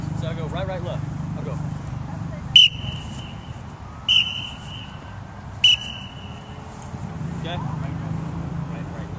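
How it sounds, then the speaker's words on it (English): A coach blows a whistle three times, sharp short blasts spaced about a second and a half apart at football practice, standing out over outdoor noise with someone talking before and after. "Every time I blow the whistle, blow the whistle once."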